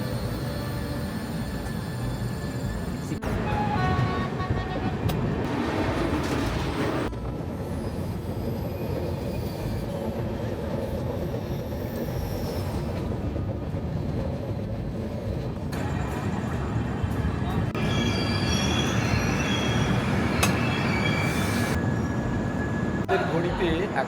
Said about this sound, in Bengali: রামপুরহাট থেকে আমাদের ট্রেন ছেড়ে দিল